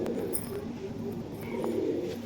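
Zia Golden high flyer pigeon cooing nearby, a soft, low, continuous throaty murmur that carries steadily from start to finish.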